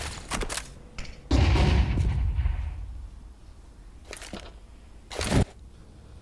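Gunfire from a professional Counter-Strike match at IEM Cologne 2025 involving MongolZ: several cracking shots and a heavier burst of fire with thuds, then more scattered shots, all over a steady in-game ambience.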